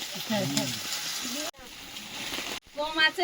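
An egg fries in a pan, the whites set and flipped, with a steady sizzle running under someone speaking briefly in Bengali; the frying hiss continues between her words.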